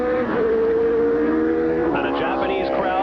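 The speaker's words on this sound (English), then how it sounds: "watch the McLaren Honda of Ayrton Senna of Brazil cross the start-finish line" A McLaren Honda Formula 1 car screams across the start-finish line at the 1989 Japanese Grand Prix, its high engine note sustained then shifting as it passes, with loud crowd noise behind.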